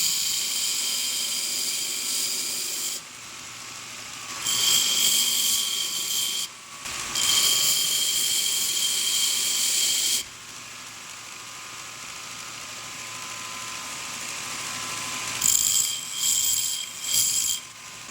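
Grinder putting a single bevel on a forged top-cutting chisel made from a truck spring, a loud whining grind that starts and stops in several bursts separated by quieter gaps.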